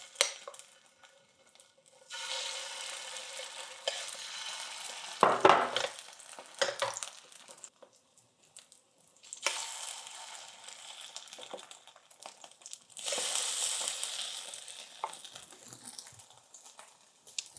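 Spoonfuls of egg-dipped batter fry in a pan over low heat, giving a soft, steady sizzle in two long stretches with quieter gaps and a few light clinks of a utensil between them.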